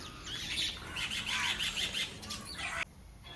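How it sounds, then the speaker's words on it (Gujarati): Crows, mynas and small sparrows call outdoors near a home, a fast run of bright, repeated chirps and squawks over steady background hum, ending abruptly. "આવી ગયા છે કાગડા કાબરો, નાની ચકલીઓ"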